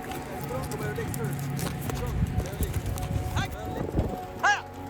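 Horse hooves clip-clop in an uneven rhythm on hard desert ground near Hurghada by the Red Sea, with people talking and calling out over them.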